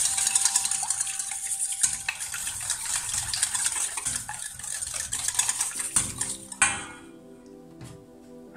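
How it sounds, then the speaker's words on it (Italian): A utensil stirs a frittata mixture of eggs and asparagus in a bowl, giving rapid, close scraping and clinking sounds. A few sharper clinks of metal against the bowl come near the end. "E mescoliamo."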